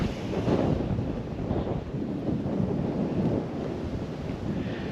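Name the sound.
strong gale wind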